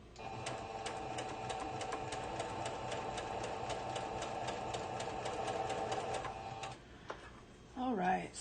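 A sewing machine stitches fabric with a rapid, even mechanical chatter and hum for several seconds before stopping, followed by a short burst of talk.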